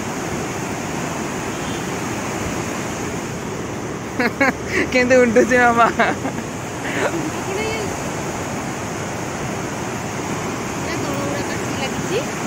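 Water rushes hard and continuously through a gate, a steady roaring flow heard throughout, with someone briefly talking over it in the middle.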